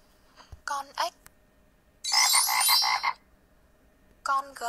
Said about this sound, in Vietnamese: Con ếch.